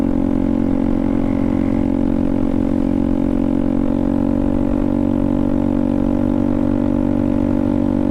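Honda Navi small motorcycle engine running steadily and close, a continuous buzzing drone with a stable pitch throughout and no clear throttle blips; no voices.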